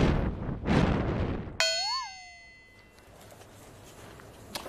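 A gong or bell struck once during a lively group game on a Chinese variety show, ringing with a bright, sustained metallic tone and bending pitch that fades over about a second, following loud chatter and laughter.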